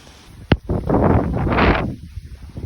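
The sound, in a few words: wind and rain outdoors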